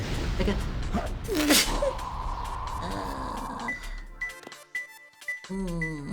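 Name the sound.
sneeze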